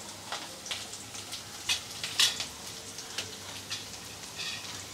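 Garlic sautés in a pan for a spicy tomato chutney, making a faint, steady sizzle broken by soft irregular crackles and pops.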